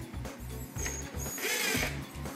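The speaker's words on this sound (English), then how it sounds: "We will now put the screws in." Screws being driven into a wooden chicken coop panel: a rapid, close ratcheting clatter from the driver, pulsing in short repeated bursts that run together for a couple of seconds.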